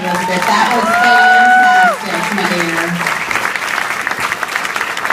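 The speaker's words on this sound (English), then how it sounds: "Another round of applause, folks." Studio audience applause in a TV show setting, loud broadband clapping throughout, with musical tones sounding over it at first and a voice speaking briefly near the end.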